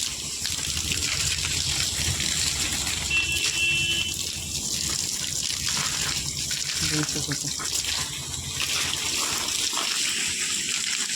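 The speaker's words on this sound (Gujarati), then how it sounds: "પાણી આપણે ચાલુ કરી દીધું" Water gushes from a hose pipe as it is sprayed over a car, a steady loud rush with a buzzing tone running under it, while someone talks over it now and then.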